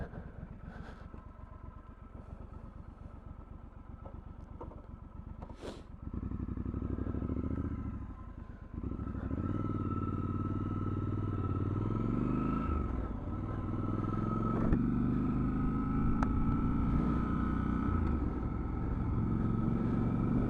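Triumph Scrambler 1200 XE motorcycle pulling away close up, a few clunks and clatter before the engine note rises through the gears with steady rumbling revs as the bike rides off, continuous and fairly loud throughout.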